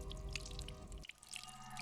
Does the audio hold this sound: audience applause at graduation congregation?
no